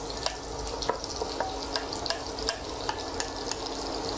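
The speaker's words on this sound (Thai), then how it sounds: "หอมแขกต้องเจียวให้ออกเหลืองทองนะครับเกือบเหลืองทองสวยงามนะครับ" Shallots frying in oil in a wok for Pad Thai sauce, a steady bright sizzle with regular clinks and scrapes of a utensil stirring, close and alone with no talking.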